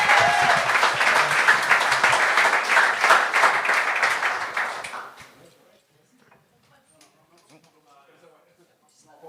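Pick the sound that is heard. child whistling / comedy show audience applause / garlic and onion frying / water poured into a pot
comedy show audience applause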